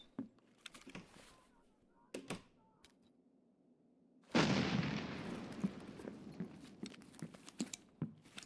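Gunfire in Escape from Tarkov: scattered distant cracks, then a loud burst of close shots followed by a rapid string of fainter reports trailing off, with faint clicks and no speech.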